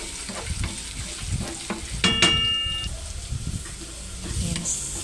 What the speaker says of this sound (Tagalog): Gisa lang natin ng mabuti, guys, para mag-golden brown.